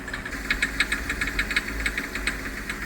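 A Hyundai Xcent or Grand i10 engine with a faulty injector, stuck near 2000 rpm and blowing white smoke, gives a steady rapid knocking tick. The rhythm is even and repeated over a continuous mechanical hum, heard close up.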